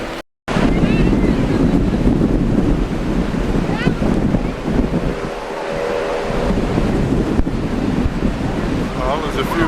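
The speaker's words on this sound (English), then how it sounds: "the waves are a little rough" Rough ocean waves crashing at a beach in strong wind, a loud continuous roar of surf with heavy wind buffeting the microphone, steady throughout after a brief dropout at the start.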